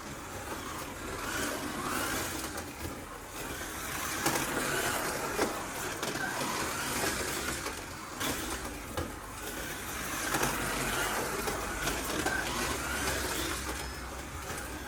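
A Scalextric Ford Sierra RS500 Texaco slot car running laps on a track, a steady whirring electric-motor buzz with rattling pickup noise that swells and fades slightly as it circles, continuous and moderately close.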